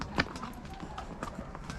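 Horse hooves clip-clop at a steady walking pace on a mountain road near Kufri, close and moderately loud, with faint voices and outdoor background beneath.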